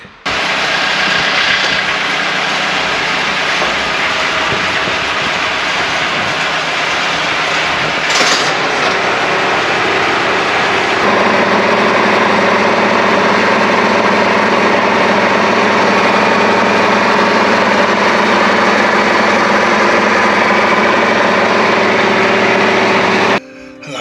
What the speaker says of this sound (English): That noise sounds like the motor's on its way out. Like a skidding.